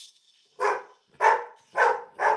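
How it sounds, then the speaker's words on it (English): Neighbourhood dogs bark four times in a spaced, steady rhythm, each bark full and moderately loud with a short gap between, coming from nearby in the middle of the night. "The neighbor dogs are barking too."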